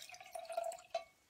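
Steamed milk is poured into espresso for home latte art, a faint close thin liquid trickle with a brief louder splash near the end, quiet and without talk.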